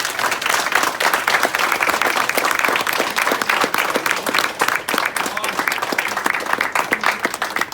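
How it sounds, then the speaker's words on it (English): Sustained applause from parents and children filling a middle school room after a seventh-grade mock trial, dense steady clapping at close range throughout. "Let's give ourselves a round of applause."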